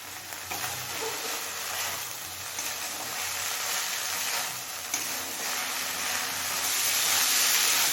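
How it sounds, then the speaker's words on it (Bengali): Kachki fish chorchori cooking on a high flame as the water dries off, giving a steady, close sizzle and frying hiss with faint stirring, growing slightly louder toward the end. "এবার হাই ফ্লেমে জলটা শুকিয়ে আসা পর্যন্ত রান্না করে নেব"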